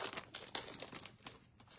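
Foam tape handled up close in a craft session, giving quiet crinkling and light tearing rustles in short bursts, with no voices.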